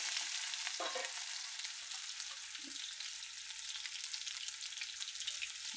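Potato pieces fry in hot oil with a steady, close sizzling hiss that holds evenly throughout, broken only by a faint clink or two of a utensil.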